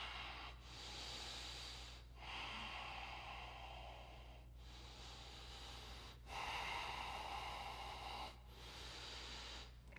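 Slow, heavy breathing during a seated glute stretch, with about five long inhale-exhale cycles separated by brief pauses, close and fairly quiet with no talk.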